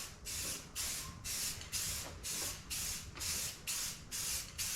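Spray gun laying a light dust coat of paint on a 1995 Chevrolet Silverado OBS truck: about eight evenly spaced hissing bursts, each roughly half a second, close and loud with no talking.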